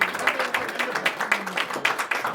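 An audience applauds at an ustad and shagird (master and disciple) ceremony in the UAE, with moderate, fairly rhythmic clapping that holds steady for a couple of seconds.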